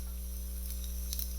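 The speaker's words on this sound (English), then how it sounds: "Frying all the rice." Rice frying in a pan for crab fried rice, a steady close hiss of sizzling with a faint electrical hum beneath and occasional brighter crackles, no voices.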